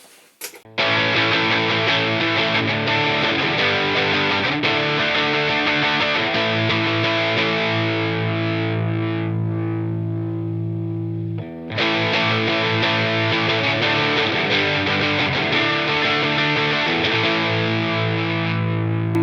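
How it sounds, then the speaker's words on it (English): Electric guitar through an inexpensive effects pedal with reverb added, dense sustained chords ringing out loud and close for most of the stretch, one short dip midway before playing resumes. "I may put some reverb on this now."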